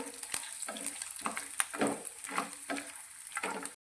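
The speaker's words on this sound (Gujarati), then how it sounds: "આ લસણ પણ આપણું સારી રીતે સંતળાઈ ગયું છે" Garlic sautés in oil, sizzling and crackling steadily in a pan, broken by repeated scraping stirs at a close, moderate level with no talking.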